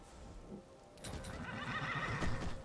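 A horse whinnies loudly in Skyrim, its call rising over steady clip-clop hooves and a rain-like hiss, close and clear with no voices.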